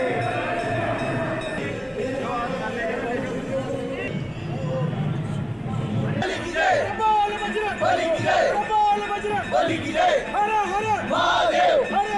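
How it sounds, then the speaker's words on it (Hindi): Large crowd of pilgrims at the Budha Amarnath temple in Jammu and Kashmir, a continuous loud babble of many voices with rising cheers and rhythmic chanted calls toward the end. "श्री बूढ़ा अमरनाथ मंदिर में श्रद्धालुओं की भारी भीड़ देखी जा रही है।"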